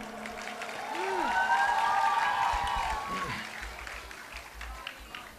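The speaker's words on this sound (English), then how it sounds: "can we have a round of applause for Mr. Barry?" Audience applause for a performer after a song, a wash of clapping that swells and then fades, with cheering voices and crowd noise mixed in and some speech over it.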